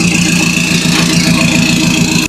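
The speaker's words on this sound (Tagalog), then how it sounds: "Pasensya na, medyo maingay yung sasakyan natin, sports type eh." A noisy sports-type car's engine idles loud and close, a steady rough drone with a constant high whine and no talk over it.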